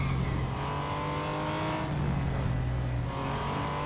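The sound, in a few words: race car skidding in Real Racing 3 video game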